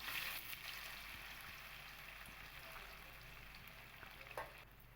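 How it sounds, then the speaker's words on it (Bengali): Pieces of paneer fry in hot oil in a wok, giving a faint, steady sizzle with light crackles throughout and a brief louder pop near the end. "এই পনিরগুলোকে আমি হালকা লাল করে ভেজে নেব।"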